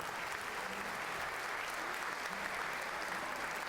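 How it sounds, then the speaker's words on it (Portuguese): Steady applause from a church congregation at the opening of a 2011 council assembly, greeting their standing bishop; dense, even clapping fills the room throughout with no pauses. "para nós dar uma salva de palmas"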